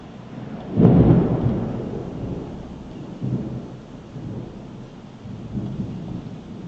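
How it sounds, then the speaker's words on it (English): Heavy rain pours steadily and a deep roll of thunder rumbles loudly near the start. Fainter rumbles follow under the constant hiss of the downpour. "There is a huge rain here."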